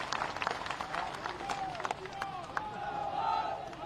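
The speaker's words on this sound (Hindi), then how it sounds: "एक बार जोरदार ताली बजाओ और हमारे सिंधिया जी के लिए" A crowd at a Shivpuri election nomination rally claps for Scindia with scattered, uneven claps and cheers amid murmuring voices, moderately loud with a lively, busy texture.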